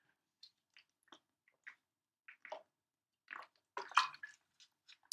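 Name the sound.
pouring or drinking water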